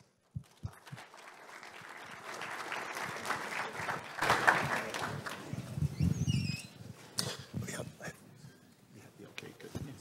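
An audience welcomes a speaker to a statistics conference talk with applause that begins with a few claps, swells into dense clapping that peaks midway, then thins out to scattered claps.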